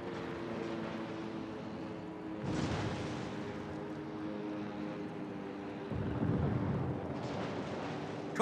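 A destroyer blowing up in a naval video game, heard as two heavy, rumbling blasts a few seconds apart over a steady low engine drone, with no voices.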